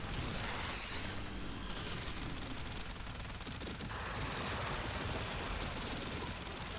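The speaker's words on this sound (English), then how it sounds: "Bullets keep firing." Warframe gunfire pours out as a dense, continuous roar of rapid shots, loud and unbroken from start to finish, with no talking.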